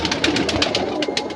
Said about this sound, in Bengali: পায়ের পাঞ্জা ওলা আরেকটা ফিমেল কবুতর